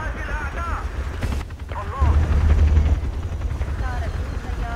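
Helicopter rotor thumps steadily in Battlefield 2, mixed with a heavy low boom partway through and bursts of game effects, while a player talks over the chaotic action.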